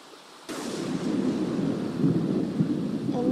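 Thunderstorm in The Sims 4: a sudden onset of rumbling thunder with steady rain-like wash, low and sustained with swelling rolls, fairly loud and alone without talk.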